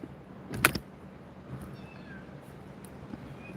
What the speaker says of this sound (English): You hear the cat noises? It's coming from inside here, huh?